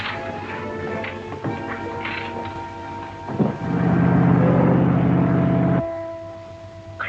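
A motorboat engine on the water gives a low, steady droning rumble that swells in, runs for about two seconds over a musical score, then cuts off abruptly.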